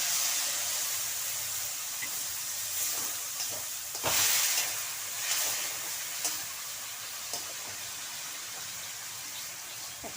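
Water hits ginger paste in a hot pan with a sudden hiss and steady sizzle, followed by stirring scrapes and bubbling frying as the steam dies down.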